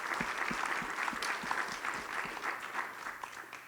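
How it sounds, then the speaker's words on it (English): Steady applause from a debate audience for the candidates at a supervisor debate, dense continuous clapping with a few sharper nearby claps, moderately distant and sustained throughout. "let's please offer applause to both candidates for their willingness to answer your questions together on the same stage"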